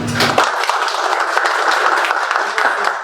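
An audience at a Spiritist lecture evening applauds to welcome a speaker, a dense patter of many hands clapping close and continuous after a brief moment at the start.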